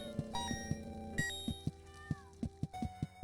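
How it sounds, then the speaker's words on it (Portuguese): A cat meows in the Horace video game, several short meows over a steady rhythmic musical beat, with game chimes and a gliding tone. "Vou ver um miado aqui de um gato."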